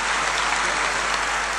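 A crowd at a Gujarati bhajan gathering under a packed pandal breaks into short, dense applause for the camera crew, a steady wash of clapping with no voices.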